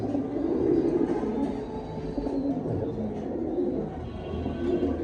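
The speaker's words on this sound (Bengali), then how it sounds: "ডাকটা দেখেন কবুতরের" A black giant homer pigeon coos close by in low, throaty, repeated calls that carry on without a break.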